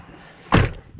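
A single short, solid thump of a car door closing as someone gets back into the car, standing out briefly against quiet surroundings.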